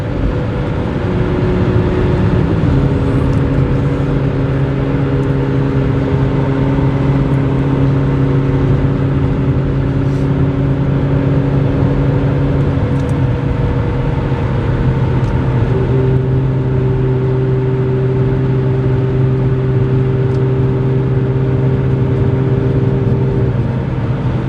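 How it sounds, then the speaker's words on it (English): A repairable salvage 2015 McLaren 650S Spyder cruising at interstate speed, its engine a steady loud drone with rising tonal shifts as it accelerates, under constant road and wind roar. "We can hit the gas and not touch the steering wheel, and we're still going straight down the road."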